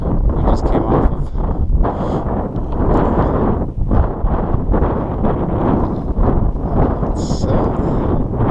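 Strong wind on a mountain hike on Moose Mountain gusts across the microphone in heavy, buffeting rumbles and roars, loud and close throughout, with a voice briefly audible beneath it.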